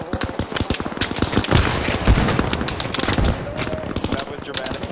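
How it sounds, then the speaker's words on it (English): Loud, dense gunfire and explosive blasts from an Arma Reforger urban militia firefight, with an RPG launched among the sustained rattle and booming impacts, filling the whole stretch. "Loading the RPG. Stepping out to fire an RPG."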